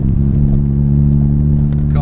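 A Mazda RX7 engine hums at a steady low idle or cruise, close and constant for the whole stretch, with no voices.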